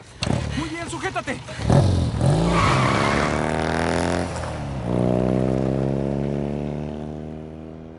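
In the Uncharted 4 video game, a motorcycle revs loudly and its tires skid during a chase, with a sustained engine drone building up. Voices shout over it.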